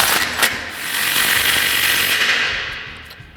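A 3/8-inch impact gun with a 15 mm socket tightens muffler clamps on a 2009-2018 RAM 1500's MBRP XP Series exhaust, giving a loud, continuous rattling burst of about three seconds that tapers off at the end.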